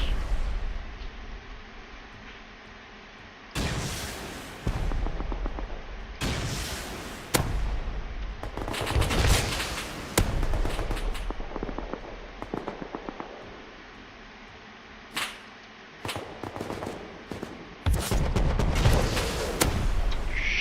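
Gunfire from a firefight against snipers in the survival game Rust: several loud clusters of sharp shots and booming blasts, separated by quieter stretches, with no speech.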